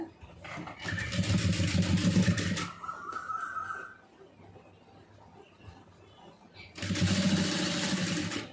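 A sewing machine stitches fabric piping in two loud, steady bursts of rapid whirring separated by a quiet pause.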